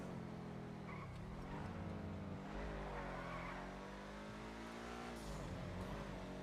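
A car drives close by with a steady engine hum whose pitch climbs and dips as it accelerates and eases off, fairly loud and continuous, with no talking.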